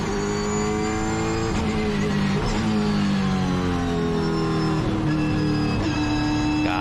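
A 2008 Holden V8 Supercar races around the Brands Hatch circuit, its engine roaring loud and steady, rising and dropping in pitch through gear changes, with no talking over it.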